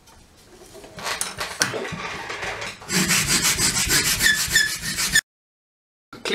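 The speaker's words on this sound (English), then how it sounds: "Well, we can peel it off now, and then we can start sanding it." Hand sanding or filing of a freshly cut rough part, rapid rasping back-and-forth strokes close up, building to a dense scratchy burst before stopping abruptly into silence.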